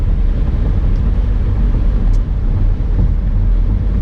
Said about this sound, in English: a lot of traffic on the freeway today